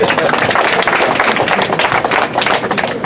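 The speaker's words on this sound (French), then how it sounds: "d'abord il faudrait les applaudir" Students at a school welcoming ceremony for a sports champion in Kaolack applaud together, a loud, dense, continuous burst of clapping close by, filling the whole stretch with no pause.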